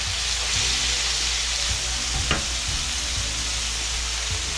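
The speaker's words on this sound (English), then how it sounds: "Go ahead and give it a stir up a little bit" Chunks of kabob meat sizzle loudly and steadily in a hot pan, with a brief scrape of stirring partway through the continuous frying hiss.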